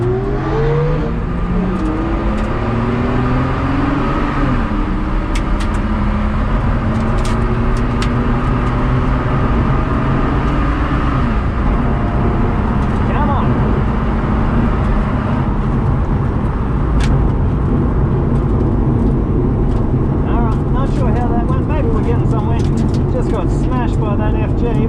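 A stock Barra-engined car launches down a drag strip, its engine note climbing through the gears in loud, sustained rising sweeps as it accelerates hard, with voices faintly underneath.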